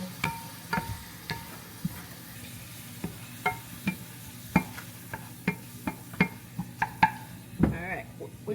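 A spoon scrapes and taps rhythmically in a pan as onion and garlic fry, a faint sizzle running underneath the regular stirring strokes, with a voice briefly audible near the end.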